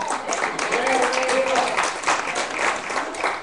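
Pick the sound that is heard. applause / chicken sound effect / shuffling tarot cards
applause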